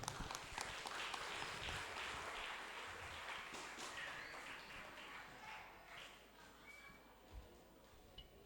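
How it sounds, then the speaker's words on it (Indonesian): Audience applause at a national seminar in a hall, as speakers climb onto the stage: a sustained, fairly faint wash of many hands clapping that gradually thins toward the end, with a few scattered thumps. "Kita tepuk tangan dulu."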